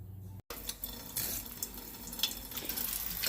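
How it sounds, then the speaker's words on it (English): Water runs from a kitchen sink tap over trays of coleus seedlings, a close, steady splashing stream that starts after a brief click and keeps flowing, growing slightly louder. "I take them over to my sink and I give them a little drink."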